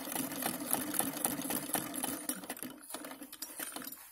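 A sewing machine runs steadily while stitching a small lahariya wave design onto a salwar, its rapid needle chatter continuing close and loud for several seconds before easing briefly and resuming.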